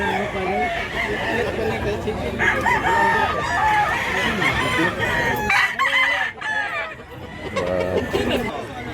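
Many roosters and hens kept in woven baskets at a market in Cebu, crowing loudly and clucking over one another up close, with someone talking over the flock.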